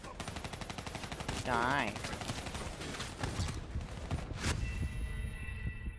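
Rapid automatic gunfire rattles almost continuously in the Call of Duty Black Ops 3 campaign, with dense overlapping shots and a brief spoken exclamation partway through.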